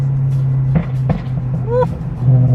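BMW E92 M3 engine idling with a steady low drone, with brief blips and a rising tone partway through, close by and loud, while people talk over it.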